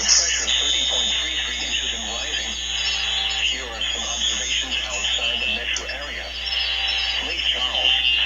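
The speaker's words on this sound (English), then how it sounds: "right here is when the fire drill started" A school fire alarm sounds during a fire drill, heard as a sustained high electronic tone droning continuously while a person talks over it throughout.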